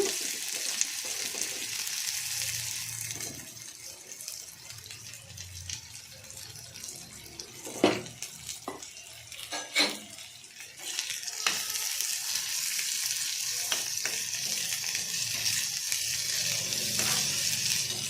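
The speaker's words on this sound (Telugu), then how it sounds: "కొద్దిగా తోటకూర మిగిలింది కదా, ఫ్రై చేసేస్తా." Amaranth leaves frying in a pan with chopped green chillies and onion, giving a continuous sizzle with scattered clinks and stirring scrapes, close and fairly loud with no talking.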